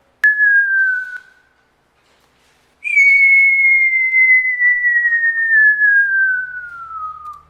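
Synthetic whistle tone built in Audacity: a short pure whistle gliding slightly downward, a pause, then a longer bright whistle slowly falling in pitch over several seconds, clean and isolated with no other sound.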